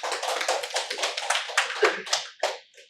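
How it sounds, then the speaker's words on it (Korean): A church congregation at a Sunday sermon claps in a short burst, rhythmic and close, tapering off after under three seconds. "박수."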